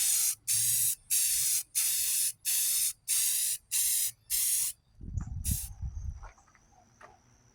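Primer coat sprayed onto a 2000 Lincoln Town Car body from an aerosol can in eight regular short hissing bursts, followed by a rattling shake of the can and quieter handling noises.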